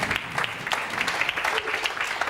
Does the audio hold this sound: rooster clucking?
no